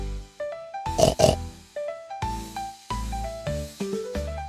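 A cartoon-style pig oinks, two quick grunts about a second in, set against a light, bouncy children's music tune with stepping melodic notes.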